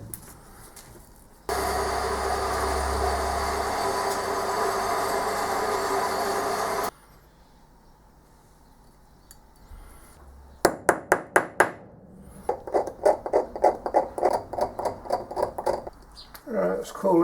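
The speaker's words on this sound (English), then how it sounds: "Right, I'll just zip these off with the bandsaw." A bandsaw runs with a steady loud whine for several seconds, cutting casting gates off metal pulleys, followed by sharp knocking and clattering of parts, with some talk in between.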